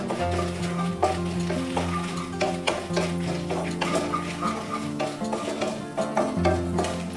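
Red chillies and curry leaves dry-roast in a pan for traditional curry powder, a continuous crackle broken by frequent scraping stirs of a spatula against the metal.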